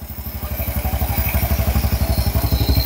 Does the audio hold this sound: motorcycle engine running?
yes